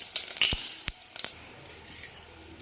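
Mustard seeds, cumin and asafoetida go into very hot oil for a tempering. Scattered sharp pops and crackles over a faint hiss, quiet and close, with no voices.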